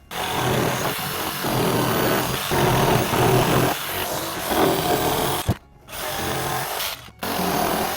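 A power drill driving screws into the wooden frame of a raised garden bed, a loud whirring motor running close in long sustained runs with two brief stops near the end.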